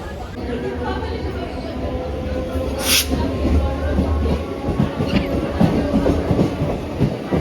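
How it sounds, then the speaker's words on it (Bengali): A train pulling into Howrah station, with a steady rumble and rattle of the carriages continuing throughout, set beneath people chatting and talking nearby. "তো ট্রেন এখন এই সবে হাওড়ায় ঢুকলো, আমরা নামবো এখন।"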